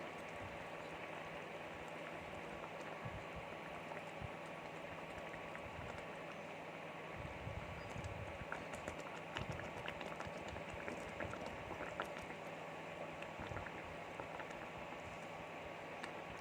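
Hilsa fish curry broth simmering at a rolling boil in a pot, a steady soft bubbling hiss with scattered pops and crackles running continuously, fairly quiet and without any voices.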